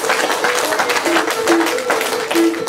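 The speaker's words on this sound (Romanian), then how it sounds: "Aplauze pentru informatori." An audience in a concert hall applauds the folk informants at an ethno-folklore ensemble event, a loud, close, continuous round of clapping with a faint tonal hum underneath.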